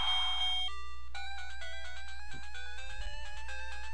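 Chiptune music and bleeping effects from the NES game Mike Tyson's Punch-Out, played on an Android emulator, sound as bright rapid melodic tones, close and clear over a low steady hum, with no talking.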